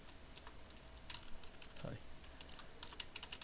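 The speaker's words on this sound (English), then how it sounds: "So just here I'm going to type" Fingers tapping on a computer keyboard while entering an Office 365 login address, a faint, quick run of scattered key clicks over a low room hum.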